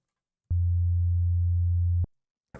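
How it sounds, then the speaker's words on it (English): Simple sine wave bass from an Ableton Operator synth, a steady, pure low tone held for about a second and a half with clean clicks at its start and end, alone. "I think I will use the operator for this. Just want a simple sine wave"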